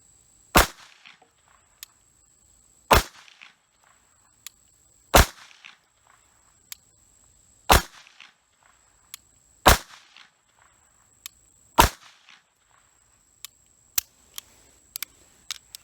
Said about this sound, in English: Now at 7 yards, I'm going to fire the rest of the magazine at that same spot.